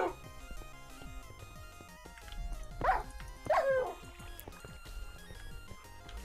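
A Minecraft dog gives two short barks in quick succession, sounding over a steady bed of game music.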